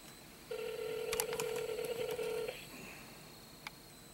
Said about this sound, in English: It's searching for the signal for a call.